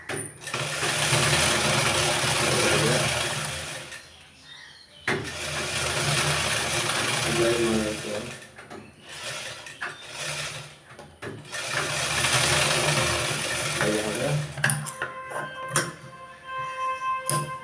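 An electric sewing machine stitches baby pants in close, loud whirring bursts, with brief pauses between runs and a few short stop-start bursts near the end.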